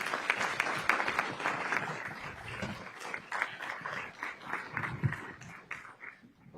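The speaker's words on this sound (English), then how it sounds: "So a round of applause as our panelists make it up to the stage." An audience at an anti-monopoly summit applauds as panelists walk up to the stage, scattered individual claps ringing out fairly close, uneven and thinning toward the end.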